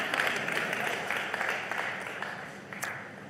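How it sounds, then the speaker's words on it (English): An audience at a book launch applauds a speaker's father, moderately faint sustained clapping that slowly fades, with a few sharper claps standing out near the end. "Please give my father a round of applause."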